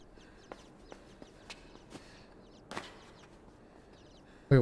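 Chickens cluck in a video game, several short separate clucks scattered over a quiet ambient background, with a louder burst at the very end.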